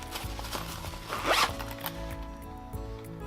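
A rainbow zipper on a JuJuBe bag is pulled in a quick rasping run, close and clear, amid light handling noises and rustles.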